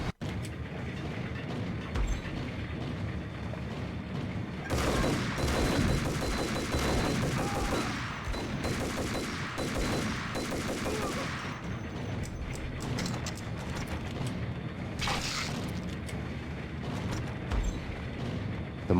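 Gunfire in the Max Payne video game, rapid bursts of automatic shots and clattering mechanisms over a dense, rumbling background, with a sharp later report near the end.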